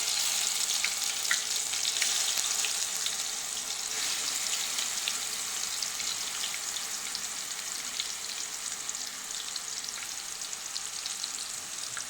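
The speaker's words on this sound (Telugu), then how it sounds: "కొంచెం ఇందులో ఇప్పుడు మనం గ్రైండ్ చేసి పెట్టుకున్న మసాలా ముద్ద వేస్తున్నానండి." Ground masala paste frying with cumin and fenugreek seeds in a hot pan, a steady close crackling sizzle with bright spitting pops throughout, no voices.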